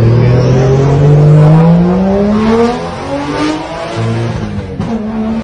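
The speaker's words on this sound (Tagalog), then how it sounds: "Since umaandar na at may battery na, sinimulan ko ngayon magbomba." A Nissan Skyline R33 engine revs up loudly, pitch climbing steadily, then drops back and revs again briefly near the end.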